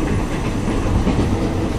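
An overnight sleeper train running from Hat Yai to Bangkok rolls on with a steady close rumble and rhythmic wheel clatter on the rails, heard alone without talk.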